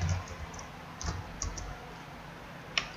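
Light computer keyboard taps sound faintly and sparsely as an address is typed into an Excel spreadsheet, a few scattered clicks over a soft background hiss.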